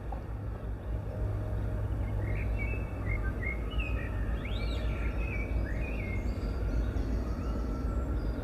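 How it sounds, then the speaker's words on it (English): Faint birds chirp and whistle intermittently in a park over a constant low rumble of outdoor background noise. "You'll be able to hear some birds in the background."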